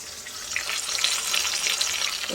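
Meat curry cooking in a pan gives off a steady, close hiss and crackle of frying, with light stirring scrapes running through it and nobody speaking.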